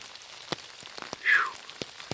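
Scattered raindrops tap and drip in a Big South Fork, Tennessee forest, with sparse irregular plinks and one brief higher chirp briefly rising in the middle, all fairly soft.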